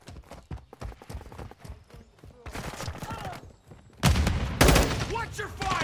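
Gunfire in Call of Duty Modern Warfare 2 during a domination match on the El Asilo map, rapid dense bursts of shots that build into a loud sustained fusillade in the last seconds, with game voices mixed in.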